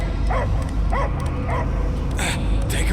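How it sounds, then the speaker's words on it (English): A dog barks and yips in a few short bursts within the game Marvel's Guardians of the Galaxy, set over a low rumbling ambient background. "I hear only barking."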